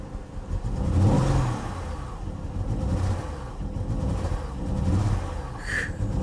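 Misfiring car engine at an auto auction idles unevenly and surges in rough, lumpy revs, loud and close, with a short high whine near the end.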